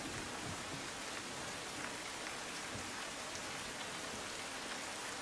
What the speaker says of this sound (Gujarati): રાજકોટ શહેરમાં ધોધમાર વરસાદ.